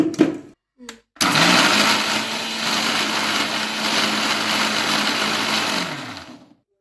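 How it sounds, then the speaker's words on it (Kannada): After a couple of brief clicks, an electric mixer grinder blending curd and other ingredients whirs loudly and steadily for several seconds, then spins down and stops. "ಇಷ್ಟು ಹಾಕ್ಕೊಂಡು ಈಗ ಮಿಕ್ಸಿ ಮಾಡಬೇಕು."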